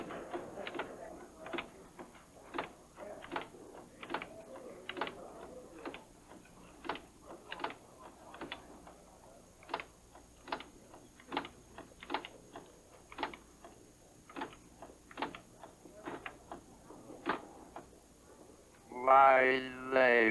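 Clacking keys on a typewriter-style keyboard, a steady run of separate sharp taps at a moderate pace, with a brief burst of sound near the end.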